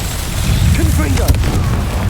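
Confringo fire spell blasting in Hogwarts Legacy, a loud booming explosion with a rumbling low end and crackling burst that fills the moment, over dense game ambience.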